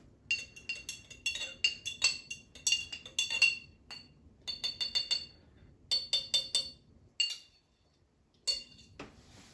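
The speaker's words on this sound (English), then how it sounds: "We're going to stir that up a little bit." Oil and vinegar stirred in a glass, a spoon clinking repeatedly against the sides in quick bursts with short pauses, close and fairly quiet.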